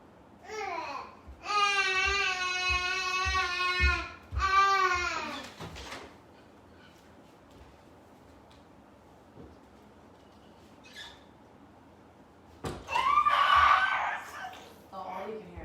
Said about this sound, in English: all you can hear is him screaming